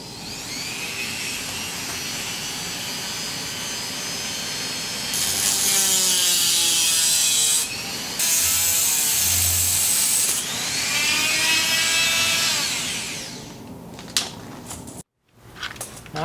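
A Dremel rotary tool fitted with a metal-cutting bit grinds steadily through metal in a van build, a continuous whining buzz that swells louder in two long passes, then tapers off with a few clicks near the end.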